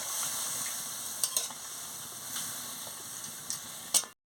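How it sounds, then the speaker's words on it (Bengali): A pan of frying telakucha leaf chochchori is stirred after water is added, giving a steady close sizzle with a few light scraping ticks from the spoon. "দিয়ে ভালো করে নাড়িয়ে নিচ্ছি"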